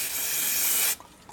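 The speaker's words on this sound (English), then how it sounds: "I'm going to use a remount spray from 3M. I'm going to shake it up, and I'm just going to spray it from above" 3M Remount spray adhesive hisses from an aerosol can in one steady, close burst of about a second, then cuts off abruptly with no talking.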